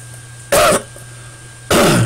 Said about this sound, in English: I hate to keep coughing in front of everybody